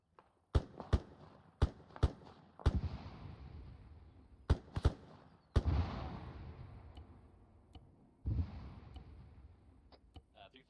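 Artillery shells landing during a joint squad training exercise, a series of sharp, heavy booms and blasts at irregular intervals, some close with rumbling tails, with radio chatter between them.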